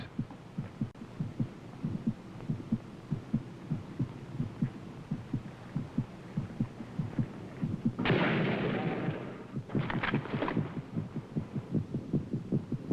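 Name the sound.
heartbeat sound in a film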